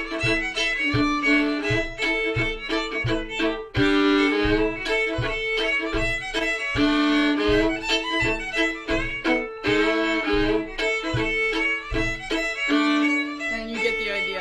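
Fiddle bowing the A part of Red Haired Boy over a steady strummed chord rhythm, lively continuous melody with regular off-beat chops underneath, close and fairly loud.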